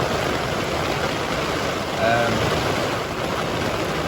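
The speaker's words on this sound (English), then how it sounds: "Rain is pelting down." Steady heavy rain pours down during a thunderstorm as a dense, continuous hiss with no breaks, fairly loud and close throughout.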